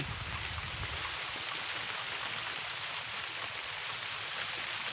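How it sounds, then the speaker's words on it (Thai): Steady rain falls outdoors in a dense, continuous hiss that stays even for the whole stretch, with no voices. "ฝนตกมาแล้ว"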